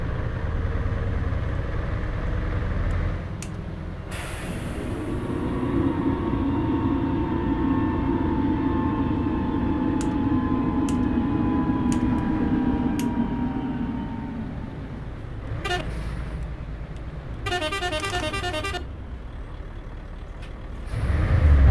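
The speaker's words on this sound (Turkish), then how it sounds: "retarder sesinin bu kadar yüksek çıkmasını istiyorsanız" A heavy Mercedes Travego bus engine drones steadily in Euro Truck Simulator 2, with a rising and falling whine as the retarder brakes, followed by short hisses and clicks.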